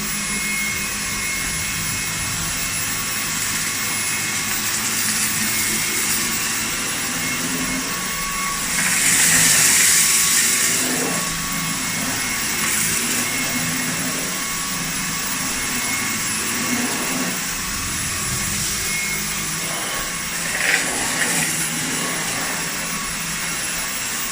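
A cordless stick vacuum cleaner drones steadily with a high-pitched whine, its pitch swelling briefly in the middle, with no talking.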